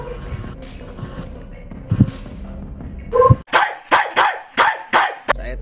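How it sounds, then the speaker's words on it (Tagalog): A dog barks repeatedly nearby, five or six loud sharp barks in a quick, uneven series after a stretch of quieter background sound. "Gutom yata yung aso mo Idol, tahol ng tahol."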